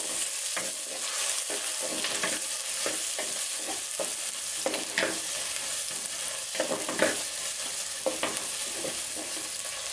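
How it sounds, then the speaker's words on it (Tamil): Onion, tomato and curry leaves sautéing in a pan for mutton kulambu, a steady close sizzle broken by repeated scraping stirs, with no talk over it. "வெங்காயம் தக்காளி நல்லா வதங்கி வரட்டும்."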